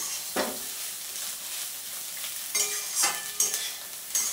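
Eggs, onion, cashews and raisins frying in oil in a pan, with a soft steady sizzle and a few brief scraping stirs, the clearest ones near the end.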